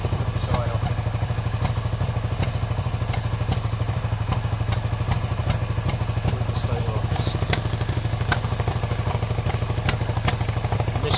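A Suzuki SV650 motorcycle engine idling close by with a steady rapid thump, broken by irregular misfire pops and clatter throughout, loud and constant.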